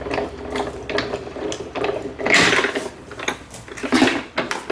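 A Spellbinders Platinum die cutting machine feeds paper through its rollers, giving a steady mechanical ratcheting and gear-driven clicking, close and moderately loud, with a few louder surges, no talking.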